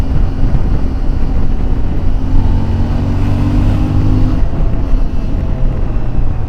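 A CFMoto 450 MT adventure motorcycle engine pulling through an acceleration on the road, a loud steady engine drone with rising tones and wind rush, close to the rider and with no talking.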